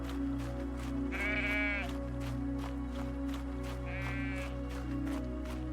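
Goats bleat twice in the I Am Jesus Christ video game, set over a steady low ambient drone with soft footsteps.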